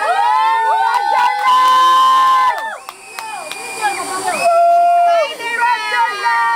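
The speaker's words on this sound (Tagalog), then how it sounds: "Puro sigaw." Excited shouting and cheering from a group of people at a slide-for-life zipline challenge, loud and continuous, with high-pitched voices calling out over one another.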